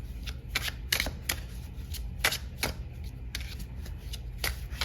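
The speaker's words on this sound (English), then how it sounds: "I'm also going to pull you some cards from the Tea Leaf Oracle." Tea Leaf Oracle cards shuffled in a love tarot reading, giving a run of crisp, rapid riffling bursts that come up close and fairly quiet, with no voice over them.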